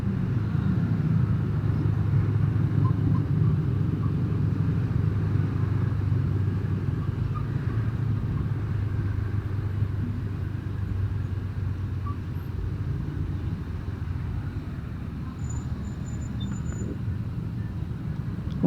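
Motorcycle riding through fairly smooth road traffic on the way to Tawangmangu, a steady close engine drone and road rumble continuing throughout, with other vehicles mixed in.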